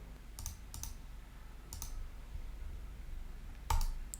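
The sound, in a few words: computer mouse clicking to upload a file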